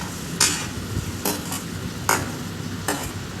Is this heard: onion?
yes